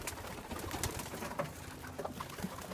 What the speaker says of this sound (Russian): А вот голуби, голубятни.